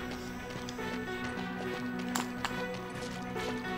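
Steady clip-clop of horse hooves trotting in a rhythmic pattern in the video game Eragon, over a continuous electronic music and ambient game background.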